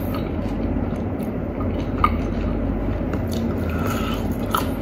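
Biting and chewing on Richeese flying fried chicken, soft squishy mastication with an occasional crisp crunch, close and fairly quiet throughout.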